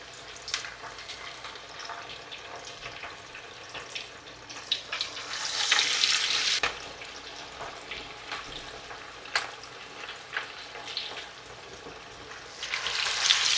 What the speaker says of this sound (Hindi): कबाब तकरीबन 3 से 4 मिनट लेते हैं पकने में। ये बहुत ही जल्दी फ्राई हो जाते हैं।